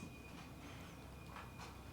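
Faint, distant rumble of a freight train with locomotive creeping along a branch line, a low steady roar with soft metallic clatter and a thin high wheel squeal running through it.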